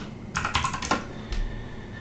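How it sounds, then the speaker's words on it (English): Typing on a computer keyboard: a quick burst of several close, crisp key clicks, then a pause and one more softer keystroke, with no talking. "You will do that by typing at the end of your website wp-admin"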